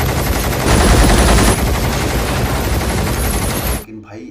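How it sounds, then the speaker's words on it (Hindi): Loud, dense machine-gun fire from an action film trailer, a continuous rapid burst of shots running almost four seconds before cutting off abruptly into near silence. "तीसरा वो मशीन गन वाला मोमेंट, ठीक है वो VFX का विजुअल इफेक्ट है"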